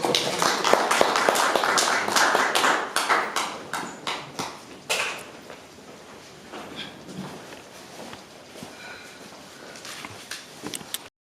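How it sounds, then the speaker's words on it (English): Audience applause for a St Dominics Chishawasha High School presentation, a burst of sharp claps that thins into scattered, fading hand claps. "Let's give St Dominics a round of applause."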